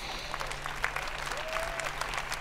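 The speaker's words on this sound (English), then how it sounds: "Let's give them all a round of applause." An audience at the EA press conference during E3 2018 claps steadily, a dense wash of applause that stays fairly faint and even throughout.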